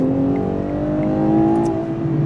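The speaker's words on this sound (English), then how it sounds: "Well, it wakes the V12 up." A Ferrari Purosangue V12 engine pulls hard after a quick multi-gear downshift, a loud, steady rising drone with layered harmonics heard from inside the car.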